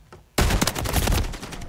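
Dense, loud shotgun gunfire from a multiplayer video game bursts in suddenly after a quiet start and continues as a rapid barrage of overlapping blasts.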